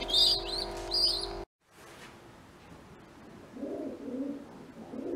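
Pigeons in a loft compartment give soft low cooing calls near the end, after a brief burst of chirping, a sudden cut and a stretch of quiet rustling.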